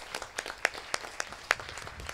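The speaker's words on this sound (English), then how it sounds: "can we join them as we applaud them and thank them for being the parents" Wedding guests at the celebration for Ronali and Dilshan clap for the couple's parents. The applause is fairly faint and thin, with a handful of distinct sharp claps standing out from a soft scattered patter.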